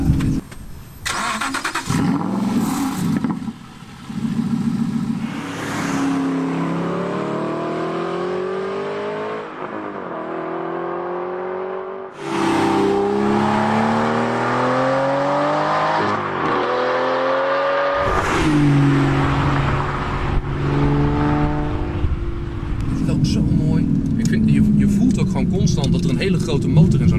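An Aston Martin V12 Vantage S starts up with a loud bark, then its V12 engine is revved repeatedly in rising and falling sweeps at close range, with people talking between and over the revs.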